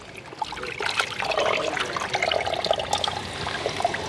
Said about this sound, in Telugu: కూర కూడా నీట్గా కడిగేసుకుంటున్నాం